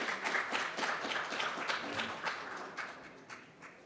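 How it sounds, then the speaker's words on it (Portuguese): Audience applause for Luciano Coutinho at a talk on national productivity, a faint steady round of clapping from a room that fades out toward the end. "Queria pedir uma salva de palmas aqui para o Luciano Coutinho."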